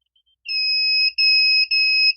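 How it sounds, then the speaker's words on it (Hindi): A digital multimeter in continuity buzzer mode, checking the circuit of a faulty 12-volt charger adapter, gives a loud, steady, high-pitched electronic tone in three sustained bursts separated by brief gaps, with no speech. "इसको हम कंटिन्यूटी मोड में रखते हैं, बजर मोड जिसे हम कहते हैं"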